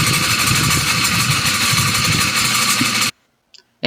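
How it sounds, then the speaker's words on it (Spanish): A drill press runs steadily as its spindle is turned to engage the gears, giving a loud, continuous mechanical hum with vibration for about three seconds before cutting off abruptly, followed by a brief faint knock. "Es recomendable girar el husillo para garantizar el embrague correcto del engrane"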